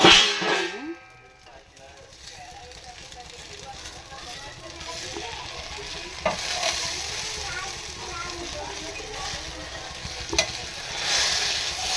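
Wheat flour and semolina dosa batter sizzles steadily on a hot iron griddle pan, a continuous frying hiss with a few brief scrapes and clinks, fairly close and moderately loud, without talk.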